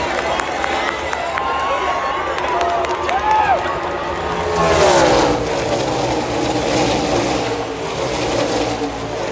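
NASCAR stock cars roaring past at the Coca-Cola 600, engines sweeping by loud and close over a cheering crowd, with a commentator's voice running over the whole passage.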